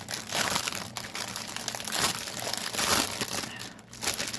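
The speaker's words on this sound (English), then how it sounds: "Sorry for the crinkling." A big plastic bag holding a skein of embroidery thread crinkles and rustles near and fairly loud, with bursts of crunching handling that continue steadily throughout and no talk.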